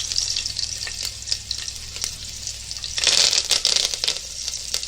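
Garlic and curry leaves fry in a tablespoon of oil, a close crackling sizzle that flares louder and spatters harder partway through, with no voices.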